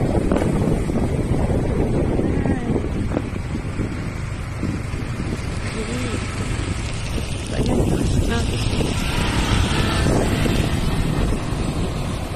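Strong current rushing through a canal overflowing after heavy rain: a loud, steady roar of churning water that runs without a break, with wind buffeting the microphone throughout.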